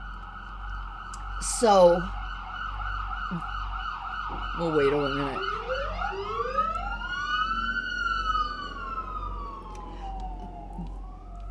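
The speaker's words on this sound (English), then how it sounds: "Sirens." Emergency vehicle sirens wailing at a distance, rising and falling in a long sweeping pattern over quiet background noise, with a person speaking briefly partway through.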